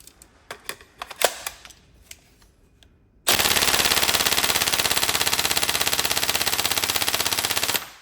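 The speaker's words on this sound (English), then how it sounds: "it is a very snappy, so you can notice it on those single shots for that fast trigger response" A Tokyo Marui MK18 Next Gen airsoft electric gun on a 7.4 V battery fires a few sharp single shots, then one long, loud, steady full-auto burst of rapid even clicks lasting several seconds.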